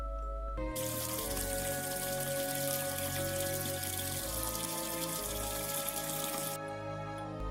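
Water running steadily from an open tap, used as a horror story sound effect, a continuous close splashing rush that starts abruptly and cuts off near the end, with a low musical drone underneath.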